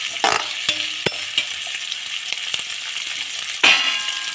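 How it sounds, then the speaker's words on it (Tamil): Ginger sautéing in a pan over a low flame for star-hotel-style chicken kali mirch, a steady soft sizzle broken by a few sharp stirring scrapes and clicks, close up with no speech. "இஞ்சி, லோ ஃப்ளேம்லேயே வதக்கிக்கோங்க."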